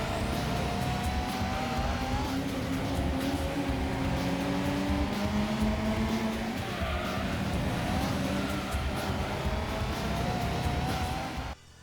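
Racing cars from the PlayStation game Gran Turismo 2 roar at high revs, the engine pitch climbing and dropping through gear changes, loud and continuous with hints of tyre squeal, then cutting off abruptly at the end.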